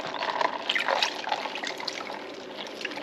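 Water running over homemade butter as it is washed, a steady close trickle and splash from a tap, no talk.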